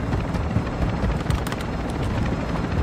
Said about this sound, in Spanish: ¿Ya está el helicóptero?